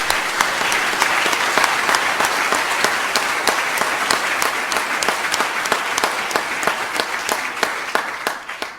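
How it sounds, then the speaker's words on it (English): Applause at a Massey Business School academic excellence awards ceremony in Auckland for the Dean's list candidates, a hall full of clapping with some distinct sharp individual claps standing out, sustained and fairly even throughout. "give a big round of applause to all of those candidates"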